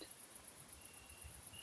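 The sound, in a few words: crickets chirping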